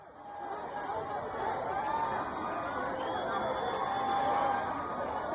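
Dense crowd of fans gathered outside a Hyderabad theatre for the Pushpa 2 premiere, a steady roar of overlapping chatter and shouts that holds loud and continuous throughout.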